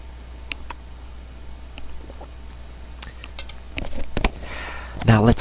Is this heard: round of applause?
no